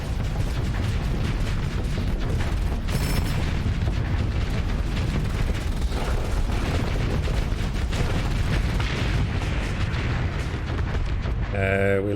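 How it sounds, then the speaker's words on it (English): Explosions and heavy weapons fire in the Starsector space combat game, a dense continuous barrage of booms and blasts with loud, rumbling low end throughout. "We lost the drone to collateral explosion there."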